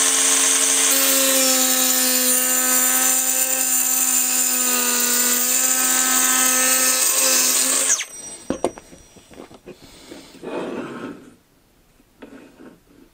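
A small cordless circular saw whines loudly and steadily for several seconds cutting metal profile, then cuts off, followed by clatter and handling noises.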